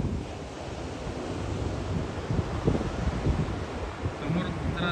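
Sea waves roar onto Bailmudi beach during rain, a steady washing rumble with wind buffeting the microphone and surges swelling louder toward the end.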